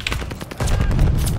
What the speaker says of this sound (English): I'm just fighting with a pistol.